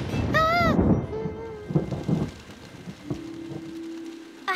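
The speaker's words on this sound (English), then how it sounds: "It's a long way to go in the rain." Cartoon rain pours steadily with low rumbling thunder beneath it, a brief voice exclaiming near the start and a sustained tone entering toward the end.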